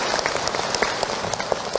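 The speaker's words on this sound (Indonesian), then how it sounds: "Tepuk tangan buat beliau." An audience claps in response to a religious lecturer's question-and-answer talk; a brief, steady burst of applause with scattered individual claps, fairly close and moderately loud, with no talk over it.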